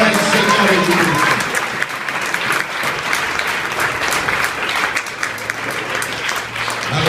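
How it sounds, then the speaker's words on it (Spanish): A church congregation breaks into loud, sustained applause during a sermon, dense clapping filling the space with some crowd voices mixed in throughout. "Otro aplauso fuerte para el Señor Jesucristo"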